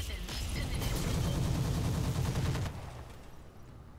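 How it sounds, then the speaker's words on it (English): Rifles and automatic weapons trade fire in the tactical game Roguepoint, a dense, loud stretch of overlapping shots that cuts off abruptly, leaving a quieter tail. "Finally get some good return fire on them."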